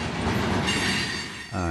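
A train runs along Soo Line railroad tracks, its steady loud rumble and rolling wheel noise filling the scene close by, with a brief shift in tone near the end.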